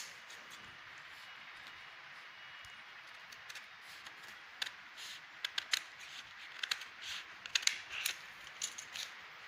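Scissors snip through shirt fabric while a shirt pattern is cut, first soft and sparse, then quicker clusters of crisp close cuts in the second half, alone without talk.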